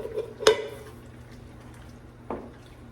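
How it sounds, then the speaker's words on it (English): Can of clams being added to a big pot of beans for a seafood feijoada: two sharp clanks of metal against the pot, close and fairly loud, about two seconds apart, in an otherwise quiet kitchen. "This is one big pot of beans. I'm gonna add all this can of clams."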